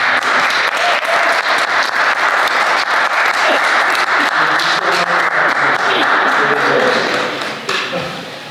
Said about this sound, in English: So a round of applause for Jamie